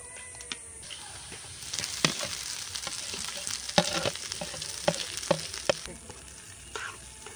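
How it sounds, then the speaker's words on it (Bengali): Grated potato and onions fry in a pan with a continuous sizzle, stirred by hand with scrapes and sharp clicks of the utensil against the pan, close and fairly loud, no voices. "পেঁয়াজটাও খুব ভালো করে ভাজা হয়ে গেছে, গ্রেট করে রাখা আলুটা দিয়ে দেব।"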